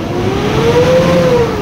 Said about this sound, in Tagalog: Ibalik nating i-rev ang makina.